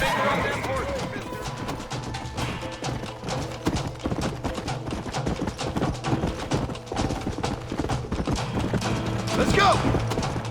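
Horse hooves clip-clopping in the Western video game Red Dead Redemption, a steady rhythmic gait under music and other game sounds, with a whinny near the start and voices talking over it.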